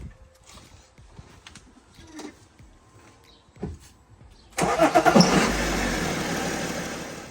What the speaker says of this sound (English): So I'm going to run the car for a bit and then just double check the oil level.